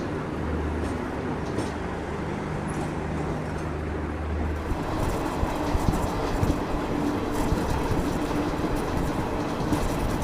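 Inside the moving Garib Rath Express at night, a continuous loud rumble of wheels and carriage noise fills the air, with faint rhythmic clicks of the rails running steadily throughout.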